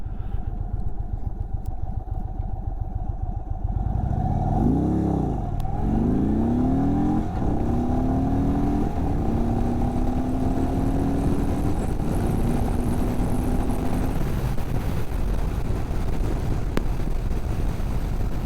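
Indian Sport Chief RT cruiser with a Thunderstroke V-twin accelerating down a road, a deep loud engine rising through gears with wind rush, ridden and recorded up close.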